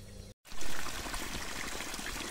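Irrigation water gushes into a sugarcane field after a brief gap, a loud steady rushing pour that settles into a continuous outdoor flow.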